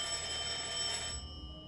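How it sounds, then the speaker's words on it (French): A telephone ringing with a steady, bright electronic trill that holds for about a second, then cuts off into a quiet room. "et le téléphone qui sonne."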